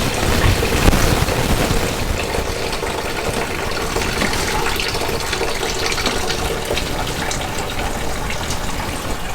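Coolant gushing steadily from the radiator of a 2000 Ford Mustang with a 4.6L V8, a continuous splashing pour of liquid heard close up with no talk.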